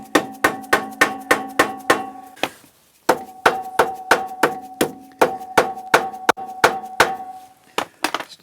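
A hammer taps repeatedly on a Honda 125SS motorcycle part in a workshop, sharp metallic knocks in quick even bursts with a brief pause partway through, close and loud with no talk over it.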